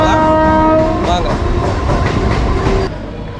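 A Chennai suburban train at Park railway station blares its horn loudly up close, then rolls on with rhythmic clattering wheels on the rails, while faint voices mix in.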